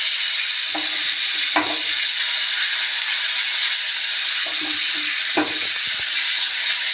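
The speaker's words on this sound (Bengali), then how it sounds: "মাছটা ভাজা হোক, তারপর আবার আসবে।" Fish frying in a pan, a loud continuous hiss of hot oil close up, broken by occasional clanks and scrapes from stirring, with no talk.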